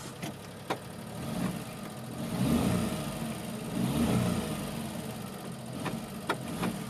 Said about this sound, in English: Engine sounds healthy, sounds really nice.